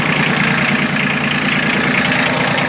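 A Yanmar F155 mini tractor's diesel engine running close up, a loud, steady idling rumble with even throbbing pulses and no talking.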